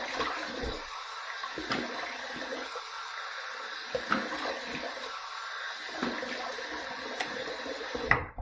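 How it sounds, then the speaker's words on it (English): Warm water runs steadily into a bathroom sink for a face rinse during a wet shave with bay rum shave soap. The flow is continuous and splashy, with a few louder gushes and clinks. "I'm going to just let out a little bit of water here in the sink"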